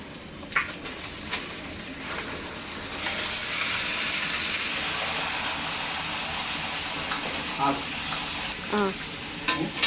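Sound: masala frying in a pan before adding chicken

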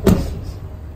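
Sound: bonnet of 1995 Nissan GTR R33 being shut

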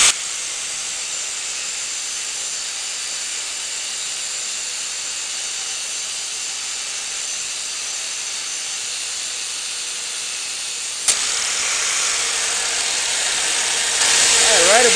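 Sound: steam hissing off heated metal part

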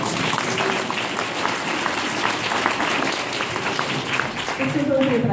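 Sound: audience applause at a school festival opening

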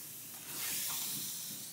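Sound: steam iron pressing wool coat seam through damp cloth

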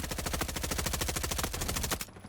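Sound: gunfire in video game Frontlines

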